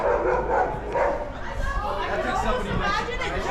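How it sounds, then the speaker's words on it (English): Dogs bark and yip at close range in the Bo Kaap quarter of Cape Town, tangled with steady chatter from a tour group talking over them. "Who let the dogs out?"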